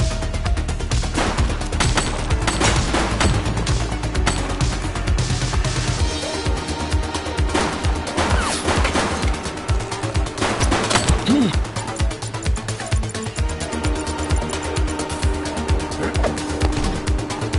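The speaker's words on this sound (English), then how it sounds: "I will shoot you." Sustained gunfire in a cop video game, dense rapid shots rattling continuously for the whole stretch, loud and busy with layered game effects.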